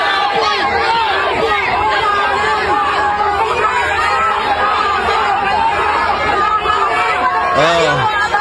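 A dense crowd of Filipino voices at a political gathering chatters and shouts without pause, many people overlapping close by at a steady, loud level throughout, with occasional louder calls rising above the babble.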